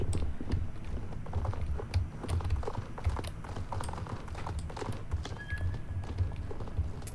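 Steady clip-clop of a horse's hooves trotting in the online video game Star Stable Online, a rhythmic, close series of footfalls with soft ambient game sounds behind.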